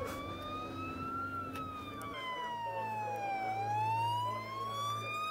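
An ambulance siren wails in a steady rising and falling sweep, moderately distant over a low traffic rumble.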